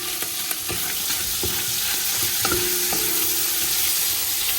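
Onion, garlic and ginger sauté in a pan for pinakbet, a continuous close sizzle broken by several clinks and scrapes of a utensil stirring against the metal.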